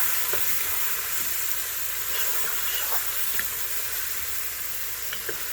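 Chicken arroz caldo cooking in a pot gives a steady, even sizzle and hiss of simmering liquid, continuous and close, with occasional small pops and stirring sounds and no voices.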